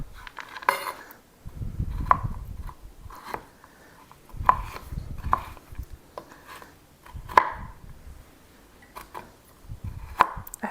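A knife chopping through a pie topping on a cutting board while making a chocolate peanut butter pie, sharp regular knocks spaced about a second apart with soft rustling between, close and clear.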